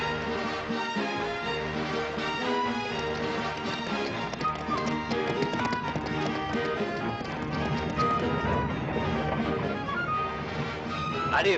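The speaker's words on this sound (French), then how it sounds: "fouettez un peu tous ces maudits chevaux" Horses clip-clop and gallop in a period pirate-adventure scene, rapid hoofbeats mixed under a full orchestral score and ambient clatter, continuous and fairly loud.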